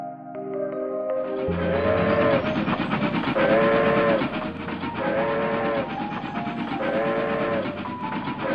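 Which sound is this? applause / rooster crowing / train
train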